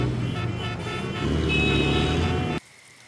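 Dense road traffic in the rain, a loud rumbling wash of engines with a sustained car horn tooting over it, cutting off abruptly near the end into quiet.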